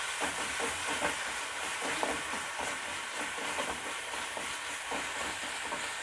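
Tomato and onion sautéing with rock salt in a pan, a soft, even hiss of frying with faint stirring scrapes throughout, fairly quiet and with no speech.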